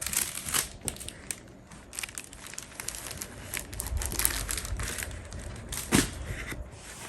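A pre-mounted xuan painting paper board is handled up close, with quiet, irregular crinkling and rustling and a few sharper crackles.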